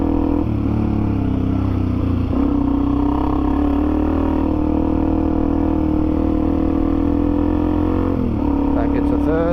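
A Suzuki DRZ400E dirt bike riding a forest track in third gear, its engine droning loud and steady close by, with a brief shift and rev near the end and someone talking over it.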